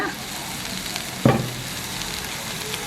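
Beetroot cooking in oil in a pan for a Jaffna-style curry, with a steady close sizzle and a single sharp scrape of stirring about a third of the way through; no one speaks.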